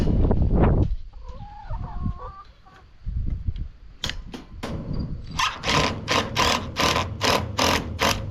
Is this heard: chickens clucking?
yes